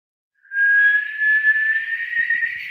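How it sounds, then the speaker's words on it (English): A person whistles one long, steady tone that glides slowly upward, clear and fairly loud against a quiet background. "Can I whistle"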